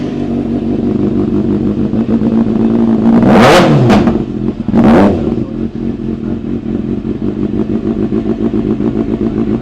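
Kawasaki ZX6R motorcycle with an aftermarket exhaust idles with a loud, rough mechanical clatter, then is sharply revved twice, the engine roaring up and dropping back, before settling to a steady close idle.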